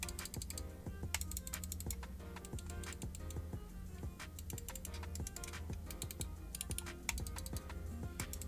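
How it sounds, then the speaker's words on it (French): Computer mouse buttons clicking in quick, irregular bursts, soft and close against a quiet room hum, with no talking. "Pour le bruit des clics maintenant."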